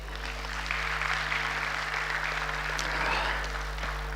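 Audience at an international currency conference marking sixty years of the Cedi breaks into steady applause, a moderate wash of clapping across the hall lasting several seconds over a constant low hum.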